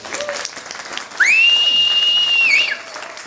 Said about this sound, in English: Can we give a big round of applause to Peter, please?